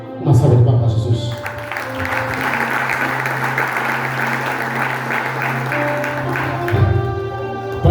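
A church congregation breaks into sustained clapping for several seconds, a dense, even patter of many hands filling the room, with a few voices rising over it at the start and again near the end.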